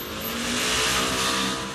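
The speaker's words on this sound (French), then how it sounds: "Vous allez juste en cours sur votre scooter." A scooter riding on the road, part of a road-safety montage: a brief, loud engine drone that swells and fades as the vehicle moves by, with no speech.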